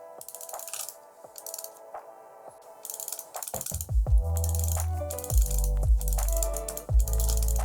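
A G3 Ultra gaming mouse with loose, wobbly main buttons gives quick dry clicks, first light and sparse, then a denser run of heavier double clicks with a rattly, hollow knock.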